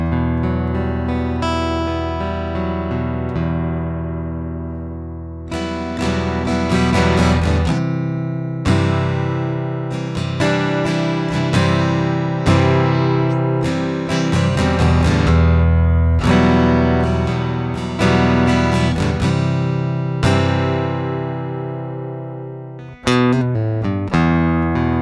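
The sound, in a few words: acoustic guitar played through piezo pickup and preamp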